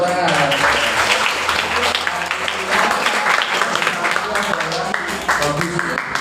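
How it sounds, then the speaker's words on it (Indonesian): Steady applause from a group fills the room at a disaster preparedness class in Ungaran, Indonesia: dense clapping that holds at an even level throughout with a few voices mixed in. "Tepuk tangan."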